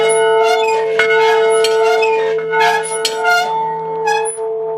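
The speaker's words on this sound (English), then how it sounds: "The prison rang the bell." A prison bell rings, sustained metallic tones with a steady hum beneath and several sharper strikes layered over the ringing, loud and close with no talk.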